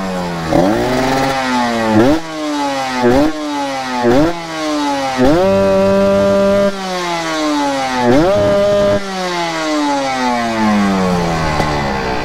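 A daily-use motorcycle with a safe everyday tuning setup runs loud and close, its engine pitch rising and dropping in repeated rev sweeps and gear-change steps, each climb followed by a sudden fall.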